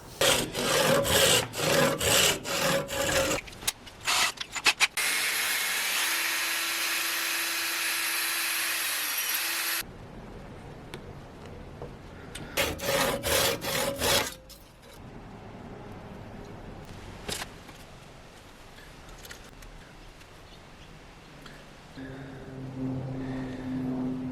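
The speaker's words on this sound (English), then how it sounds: "I'm going to sand it down and so it'll fit." Sanding a Tasmanian oak dowel by hand during guitar repairs, with quick rhythmic rasping strokes up close, a long steady rubbing stretch, then more bursts of scraping strokes.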